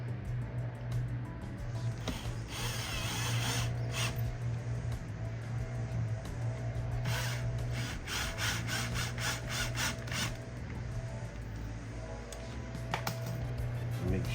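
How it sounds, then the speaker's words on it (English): Power drill driving screws to mount a PRV Audio 6.5-inch midbass car speaker, heard as short buzzing, rasping bursts over a steady low hum and busy mechanical background, fairly close. "I ain't hit them too hard with the drill"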